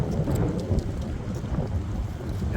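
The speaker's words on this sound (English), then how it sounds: "It's starting to rain a little bit." Light rain falling during a strong thunderstorm in Valparaiso, Indiana, a steady soft patter with low rumbling underneath, faint and continuous with no talk.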